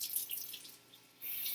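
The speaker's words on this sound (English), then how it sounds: "you can turn on the water again" Water runs from a tap over a sink while a makeup sponge is rinsed, a bright splashing stream that softens briefly midway and then gushes fully again, close and alone.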